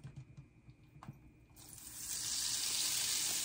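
Cornbread batter is poured into a skillet of hot oil and starts to sizzle, with soft clatter at first, then a loud, bright, continuous hiss that swells and holds close by.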